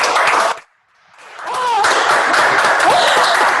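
A crowd bursts into applause, breaks off briefly, then resumes with loud clapping and cheering voices mixed in.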